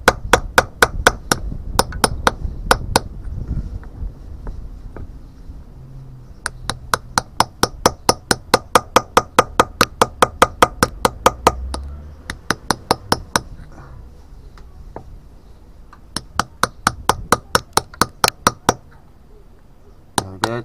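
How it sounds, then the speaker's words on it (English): A chisel taps on a fossil during fossil prep and cleaning, making sharp metallic clicks in fast bursts of many hits with short pauses between runs, close and clear over a faint rumble. "Tapping along, tap, tap, tap."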